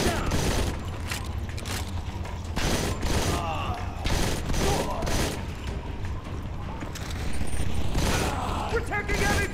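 Gunfire in the Modern Combat 4 video game: repeated loud shot bursts and impacts in a chaotic firefight, with voices shouting between volleys.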